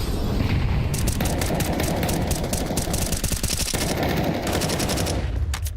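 Rapid, continuous automatic gunfire from Counter-Strike 2 during a tournament match, dense bursts of shots cracking loudly and almost without pause from start to finish.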